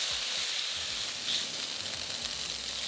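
Mushrooms sizzle and fry in a hot pan for a tofu dish, a loud, steady crackling hiss with a few soft stirring knocks.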